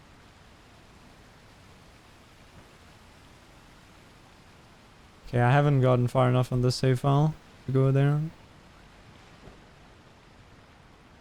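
Rejuvenating waters in Sekiro pour down as a steady, soft wash of water noise throughout, with a short stretch of someone talking over it midway.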